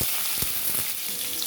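Tempering sizzles in hot oil in a pan on the stove: mustard seeds, cumin, chana dal, asafoetida and onions fry with a steady dense crackle and a few sharp pops, close and continuous.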